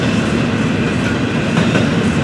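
An FEC train rumbles steadily along the rails as it drifts to a stop, its wheels clicking and grinding at a loud, even level with no voices.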